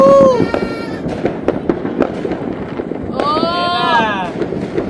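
New Year 2025 fireworks explode in repeated pops and crackles with rising whistles, mixed with people cheering and talking nearby.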